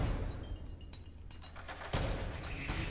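Ship weapons in the spaceship game FTL fire a rapid volley of sharp, punchy shots, several blasts in quick succession over a constant electronic hum, with a loud burst near the end.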